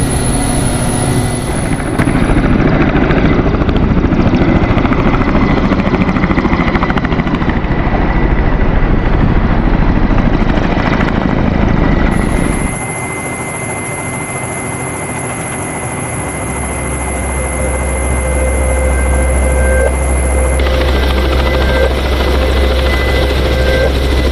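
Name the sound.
helicopter preparing for takeoff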